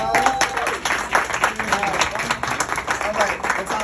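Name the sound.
audience clapping and applause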